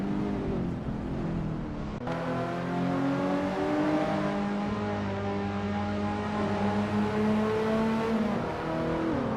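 Engines of race cars in a racing video game rev and accelerate steadily, their rising whine stacking into layered tones, loud and continuous with no talk.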